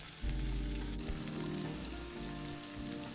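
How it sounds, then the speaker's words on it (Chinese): Dried-shrimp rolls fry in a pot of oil at about 140 to 150 °C over medium-low heat, giving a steady, dense sizzle and crackle with no voices. "烧热一锅油，油温约140至150摄氏度，火调至中低火，再将虾皮生坯放入"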